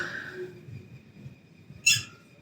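A bird gives one short, harsh squawk near the end, after a faint tonal call at the start, against a quiet background.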